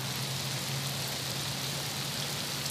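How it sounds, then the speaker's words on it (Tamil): Heavy rain pours down in a steady, dense hiss that stays loud and unbroken throughout, with no voices. "மழை கொட்டுறதுனாலையும் வானம் மூடி இருக்கிறதுனாலையும்"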